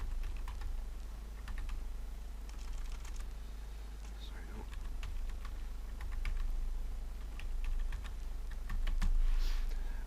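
A password is typed on a computer keyboard in quick irregular bursts of close clicking over a low constant hum, while a voice talks in between.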